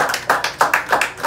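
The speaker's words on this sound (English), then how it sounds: "Let's clap our hands." A church congregation claps hands during a worship service, a close, lively run of about eight sharp claps in a steady rhythm with no talk over them.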